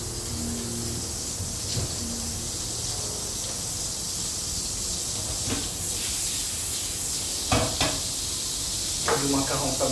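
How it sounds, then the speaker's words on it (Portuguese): Yakisoba noodles frying in vegetable margarine in a frying pan: a steady hissing sizzle runs throughout, with a few sharper clacks and scrapes of stirring toward the end. "vou fritar o macarrão que está aqui"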